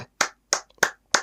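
A single person claps hands four times at an even, deliberate pace, each clap sharp and close with brief silence between.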